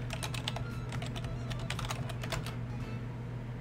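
Rapid, irregular keystrokes on a computer keyboard as a root password is entered at a login prompt, crisp clicks over a steady low hum, no voices.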